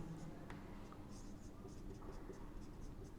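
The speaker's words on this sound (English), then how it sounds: "Let me to write autogamy" A pen scratches across a writing surface, writing the word autogamy in short, quiet strokes with brief pauses between them, over a low background hum.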